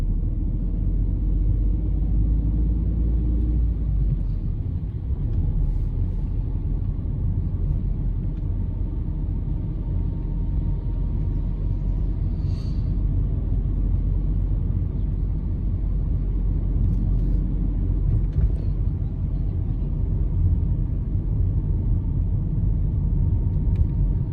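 A car driving along a road during a driving test in Sidcup, slowing and changing down into second gear, gives a steady low engine and road rumble that holds throughout at close range, with no one talking.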